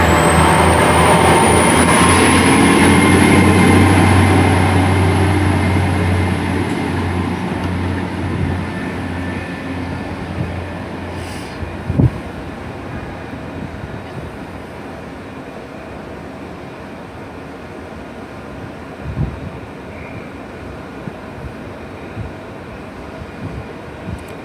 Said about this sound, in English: we'll finish with the Swansea service departing out